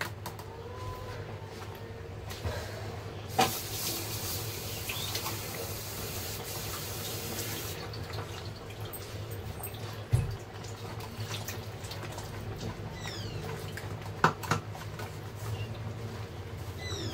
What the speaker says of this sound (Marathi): पाणी पडेल खाली आणि हा गाळ बघा तो वरती राहील.